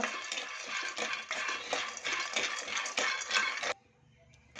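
Sesame seeds roast in a pan for ellu bella, stirred with a scraping, rattling patter that continues steadily for several seconds, close and fairly quiet, before stopping abruptly.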